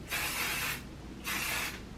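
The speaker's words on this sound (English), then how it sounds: "I really focus it on my ends and then just spray it all over my head." Hair heat protectant spray hisses out of a pump bottle in two steady bursts, each under a second long with a brief pause between, close and clear with no talking.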